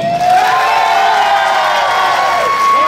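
A crowd at a dance contest in Wendell, North Carolina, cheers loudly with whoops and sustained shouting, a dense, close wall of voices with applause mixed in throughout.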